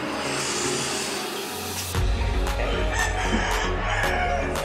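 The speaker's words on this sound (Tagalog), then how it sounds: "ito po ang ating mga manok" Chickens at a meat shop on a Sunday morning: a rooster crows loudly up close while hens cluck in short repeated bursts, over a steady background rumble of traffic.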